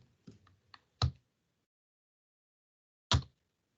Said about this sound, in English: now try to type something